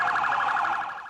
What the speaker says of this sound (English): New York is always noisy, but these days it's wailing. A city of sirens